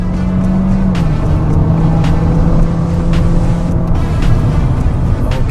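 Lexus UX200 accelerating in sport mode, heard from inside the cabin as a steady, loud engine and road drone whose pitch shifts as the car gains speed.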